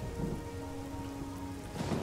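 Steady rain pouring in The Elder Scrolls IV: Oblivion, a dense even hiss of falling water with a low rumble and a faint sustained tone beneath, continuous and fairly close throughout.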